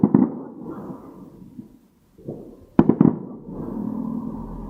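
Bonfire night fireworks burst at a distance, a few muffled booms and sharp crackling pops separated by quiet gaps, with a low rumble trailing after them.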